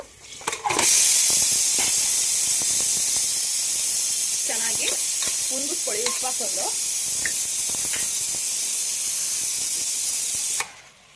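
Pieces of mutton drop into hot ghee with well-browned onions and erupt in a loud, steady sizzle and hiss that holds for about ten seconds, with stirring scrapes in the pan, before cutting off abruptly.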